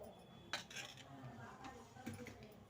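Ghee halwa is stirred in a pan on a low flame, with a few close metallic scrapes and clinks of a spoon against the pan over a quiet background, and no talk.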